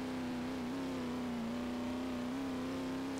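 A rear-wheel drive car in the Roblox game Horizon holds a steady, loud engine drone with only slight pitch wavers, heard alone and close throughout.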